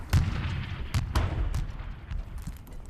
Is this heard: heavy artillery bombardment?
yes